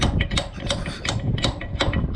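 Hammer blows ring sharply on a metal PTO shaft of a Killbros 1200 grain cart, about eight strikes in a quick, slightly uneven rhythm, close up with no talking.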